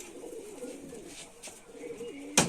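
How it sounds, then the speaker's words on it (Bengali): Pigeons of the Rajshahi Giribaz breed coo softly in a loft, a few low throaty coos repeating close by over a faint background hum, with a brief sharp noise at the end. "এবার একে একে দেখাচ্ছি পায়রাগুলো।"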